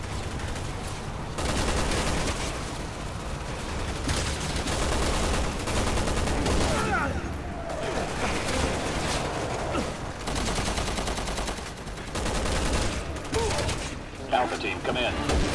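Gunfire from a Resident Evil 6 battle rattles in dense, sustained fusillades with heavy booms for about fifteen seconds, loud and close, while voices speak over the shooting.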